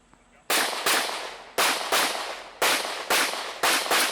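About six loud, close gunshots ring out at an outdoor USPSA practical shooting match. They come in quick pairs and singles with short pauses between, and each sharp crack decays into a brief echo.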